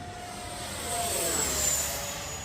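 An FMS 80mm F-86 Sabre RC jet plane passes in flight, its ducted-fan whine swelling to a peak mid-way and fading again, heard alone at moderate distance.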